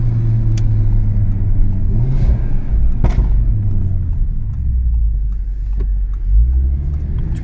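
Audi TT RS tuned to about 560 hp, four-wheel drive, doing a launch control start: a loud, steady low engine rumble with a throaty rev building under it, and a few sharp transient clicks or pops along the way.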